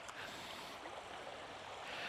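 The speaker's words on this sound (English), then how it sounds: "the waves are coming in" Ocean waves rolling onto a rocky shore make a steady, broad wash of surf, continuous and fairly even throughout with no voices.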